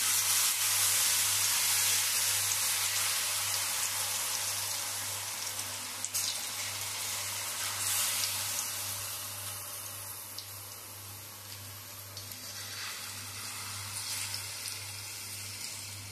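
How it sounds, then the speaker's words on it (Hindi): Onion pakora batter fries in hot oil, a loud, continuous sizzling hiss that gradually softens and then steadies, with no voices. "तेल अच्छी तरह से गरम हो चुका है। तो अभी ये जो बेटर तैयार की है इसको इसमें डाल देते हैं।"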